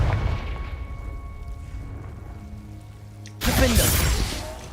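A Confringo spell explosion in the video game Hogwarts Legacy bursts suddenly after a low rumbling lull and is followed by a loud crackling blast and debris that fade out.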